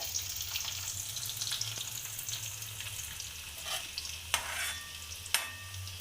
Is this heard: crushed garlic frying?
yes